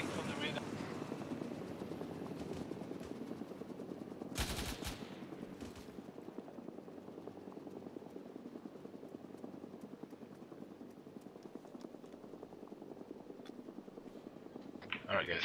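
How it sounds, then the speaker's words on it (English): In an ArmA 3 military game, a helicopter drones steadily while its machine gun fires a sharp burst partway through, with faint gunfire scattered around and players talking over the radio. "Yeah, helicopter shooting."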